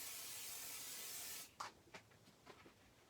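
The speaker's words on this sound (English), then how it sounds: "I'm going to have to very, very quickly add some more pixie spray" Pixie spray hisses from an aerosol can in one steady close burst lasting over a second, then stops, followed by faint rustling and tapping.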